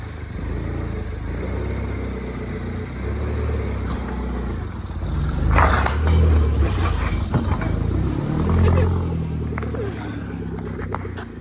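A Mini Cooper S fitted with a lift kit revs in sport mode while up on bricks, its engine note rising and swelling in the middle and staying loud throughout, with creaks and knocks mixed in.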